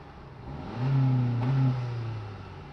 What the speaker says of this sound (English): 72 decibels at whatever it's rev limiting at